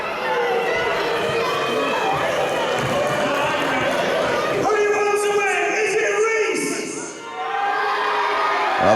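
Wrestling crowd at the Princess Theatre in Clacton cheering and shouting loudly and continuously, a dense wash of voices with a brief dip near the end before the roar picks up again.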